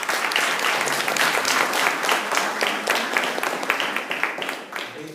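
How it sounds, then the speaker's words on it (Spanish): A congregation at a Bible study on 1 John claps for Ariana, a full burst of many hands with crisp individual claps that gradually thins and fades toward the end. "Démosle un aplauso a Ariana."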